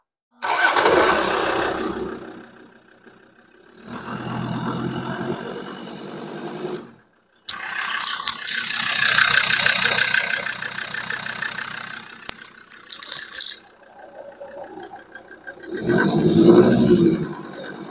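A rebuilt car engine cranks and catches, then settles into a steady idle with bursts of revving and quieter stretches; no voices.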